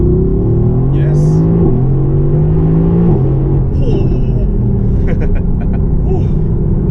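A Mercedes-AMG GTC engine revs and rumbles steadily from inside the car, with the pitch rising and falling under continuous conversation.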